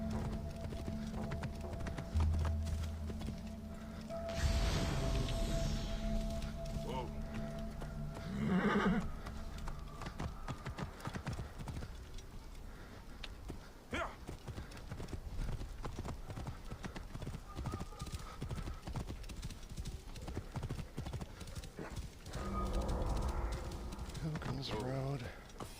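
Hooves clip-clop steadily from a horse in the Assassin's Creed Origins video game, ridden by a player running on a treadmill, with a whinny and bird calls around it and someone talking over the game.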